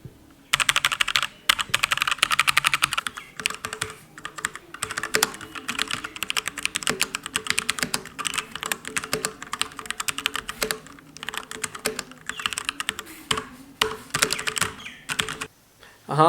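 Rapid, steady typing on a Royal Kludge RK919 mechanical keyboard with red linear switches, recorded close up as a dense run of soft clacks with brief pauses and no talking.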